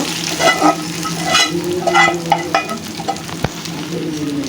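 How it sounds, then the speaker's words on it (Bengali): Fried onion tempering is poured into a pot of meat and stirred, giving a close, crackling sizzle with scraping and stirring clatter and one sharp knock partway through. "এখন আমি মাংসের ভিতরে বাগারটা দিয়ে দিব"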